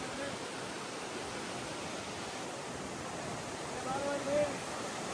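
Habbe Falls, a forest waterfall near Chikkamagaluru, pours in a constant broadband rush of splashing water heard up close, steady and loud throughout.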